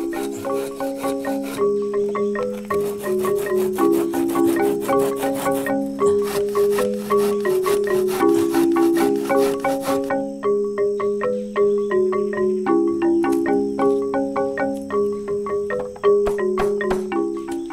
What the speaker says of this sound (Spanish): toca cortar con la sierra